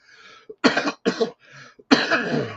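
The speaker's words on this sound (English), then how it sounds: "I've still got a cough." Three or four harsh, raspy coughs in a quick cluster, close and loud, with a brief pause before the last heavy cough.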